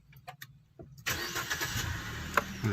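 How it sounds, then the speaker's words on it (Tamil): A car engine is started during a driving licence test, with a few quiet clicks before the starter catches and the motor settles into a steady, close idle. "சரி வண்டி ஸ்டார்ட் பண்ணுங்க"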